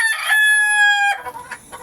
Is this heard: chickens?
yes